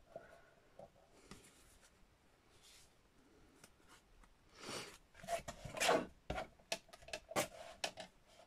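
Thick art-journal paper being chopped and trimmed by hand, with quiet rasping cuts early on building into a run of loud, close scraping slices and sharp crunches in the second half.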